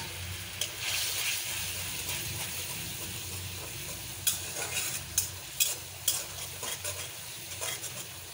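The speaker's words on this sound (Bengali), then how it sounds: "আমার মশলাটা কষানো হয়ে গেছে, আমি এখানে হাফ চা চামচ ধনিয়ার গুঁড়ো দিয়ে দিলাম।" A spice paste with coriander powder sizzles steadily in hot oil while being stirred, with soft scraping and several sharp clicks of a utensil against the pan near the end.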